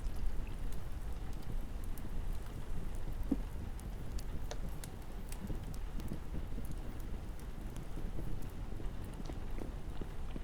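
Rain in the video game Vintage Story falls as a soft, steady wash with scattered faint drip taps, continuous and even for the whole stretch, with no voices over it.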